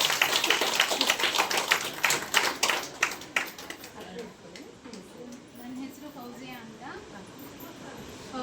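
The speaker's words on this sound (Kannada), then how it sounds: "ಜೋರಾಗಿ ಚಪ್ಪಾಳೆ ಹಾಕೋಣ" An audience clapping, a brisk patter of many hands that is loud at first and fades away after a few seconds, leaving quiet room noise and faint talk.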